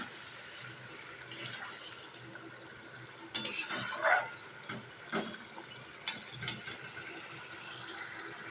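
Potato and pointed gourd curry being stirred in a pan, scattered soft scrapes, clinks and wet squelches of a spoon over a quiet low background.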